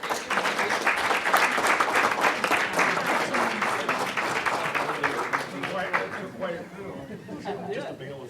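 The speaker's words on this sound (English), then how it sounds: "Let's do one more round of applause for all of our" An audience at a county board meeting applauds the staff, a dense, steady wash of clapping with voices mixed in, tapering off toward the end.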